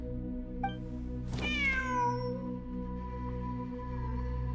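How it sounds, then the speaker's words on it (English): A cat in Genshin Impact lets out a single clear, drawn-out meow over a steady low background hum, with no voices. "Wait, there it is! The cat!"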